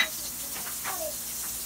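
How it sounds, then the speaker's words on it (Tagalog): Butter sizzling as it hits a hot pan, a soft steady hiss with faint crackles throughout, close and quiet. "So, mainit na yung kawali, kaya ilalagay ko na yung butter."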